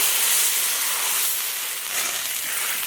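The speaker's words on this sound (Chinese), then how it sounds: "倒入开水" Boiling water hits a hot wok of stir-fried chili and soy sauce, giving a loud, steady steaming hiss that fades slightly and swells again, with no other sounds.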